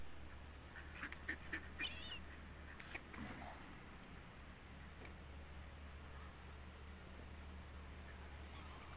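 Ducks quack faintly and at a distance in a quick burst of calls early on, over a low steady outdoor hum, then the sound settles into quiet background noise.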